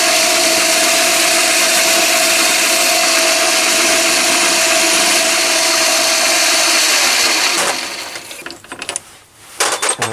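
A Chinese mini lathe runs steadily while the corner of a spindle handle is deburred, a continuous whirring machine tone with a cutting hiss that holds evenly, then tapers off and stops near the end.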